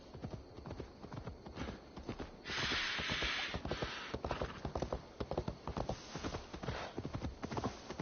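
Horse hooves galloping in Assassin's Creed Valhalla, a rapid, continuous clip-clop rhythm close up and steady, with a brief burst of rushing noise partway through and occasional snorts.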